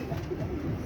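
A yellowish male pigeon cooing close by, a short, soft, low throaty coo rolling over a steady background hum.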